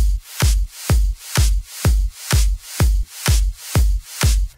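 Layered clap and snare samples in the remix hit on a steady, even beat, about nine punchy strikes in a row, each with a deep thump under a bright, noisy crack, loud and unaccompanied.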